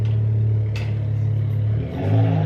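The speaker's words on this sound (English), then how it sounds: "I wish that guy's exhaust wasn't so loud" A car engine with a loud, throaty exhaust rumbles close by, rising in a rev as it passes.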